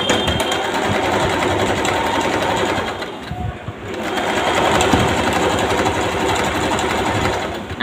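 An electric sewing machine runs close and loud, stitching straight seams on a mohri, the hem of a pair of trousers, with a steady rapid whirring hum that dips briefly midway before resuming.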